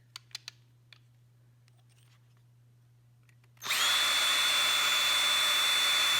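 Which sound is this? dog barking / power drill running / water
power drill running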